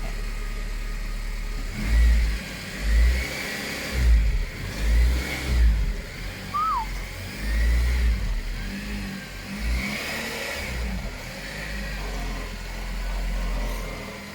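A K-swapped Honda Jazz out on its first drive, its engine revving and pulling through gears in repeated surges, steady and fairly close throughout with no talk.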